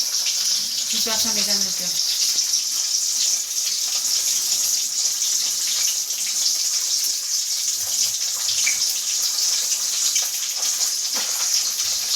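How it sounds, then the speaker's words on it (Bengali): Water poured for drinking on a warm day indoors, a steady rushing flow that runs continuously throughout, close and fairly loud. "চলো জল খেয়ে নিই জল"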